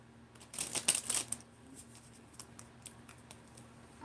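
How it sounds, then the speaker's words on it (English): Tarot cards are shuffled close by in a quick rustling flurry, then lighter scattered riffles and taps trail off quietly with no one talking. "I'm gonna do a real good shuffle"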